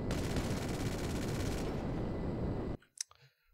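Old Lazer jet cannon firing in GTA 5, a dense, rapid, loud burst of automatic gunfire lasting nearly three seconds before cutting off abruptly, followed by a few scattered clicks and short thuds.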